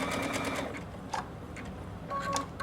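A sewing machine satin-stitches around an outside curve of an applique, its rapid mechanical needle chatter running close and steady, with a few sharper clicks and a brief whine toward the end as the stitching continues.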